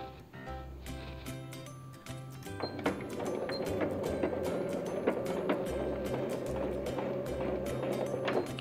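Domestic sewing machine stitching a seam 1 cm from the edge, starting with a backstitch; a steady mechanical whirr with rhythmic needle clatter runs continuously after a short start-stop opening, close and moderately loud, with no talking.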